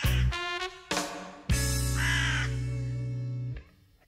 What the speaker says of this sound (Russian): Итак, о чем же вороны каркают?